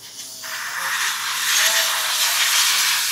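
Compressed air blasting from an air gun over an AX200S motorcycle while it is being cleaned, a loud, steady hiss that builds in the first second and holds strong to the end with no talking.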